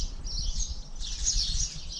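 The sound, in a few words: birds singing over farm countryside in Sardinia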